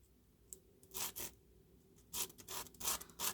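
A broken Jinhao 599 fountain pen grip is rubbed on an emery sheet in short, close scraping strokes, several bursts separated by quiet pauses.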